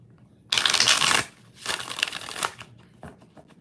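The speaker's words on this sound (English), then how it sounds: "4 more shuffles." Tarot cards shuffled by hand in a few quick riffling bursts, close and crisp, separated by brief pauses in an otherwise quiet room.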